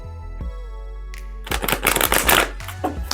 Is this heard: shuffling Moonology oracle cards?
yes